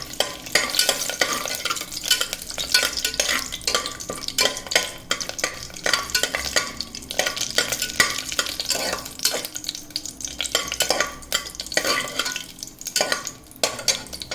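Whole cloves, cardamom pods, cinnamon stick and a bay leaf sizzle in hot oil in a pan while being stirred steadily, with continuous close frying and scraping noises throughout.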